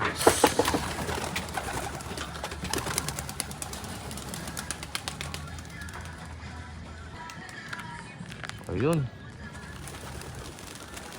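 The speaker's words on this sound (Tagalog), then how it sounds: "Sumabay yung mga kalapati" Soft pigeon cooing and fluttering outdoors at a pigeon derby race in San Narciso, with someone talking and scattered tapping and bird calls in the background.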